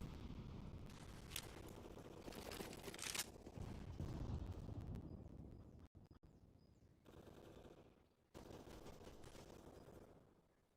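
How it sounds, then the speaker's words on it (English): Gunfire in a Counter-Strike esports match, bursts of rapid automatic shots and single cracks, loud at first then thinning with brief pauses, over a continuous game background. "Shots do get sent down range."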